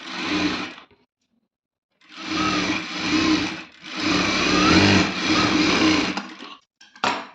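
A domestic sewing machine runs in several sustained bursts while stitching a piping seam, with a loud whirring motor, brief pauses between runs and a short final burst.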